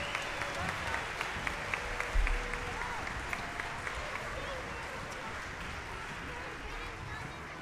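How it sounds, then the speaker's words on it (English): Audience applause for first grade performers at a lower school spring concert, a broad steady wash of clapping that holds at an even level throughout, with a few louder claps standing out near the start. "So another round of applause for all the hard work my first grade has done"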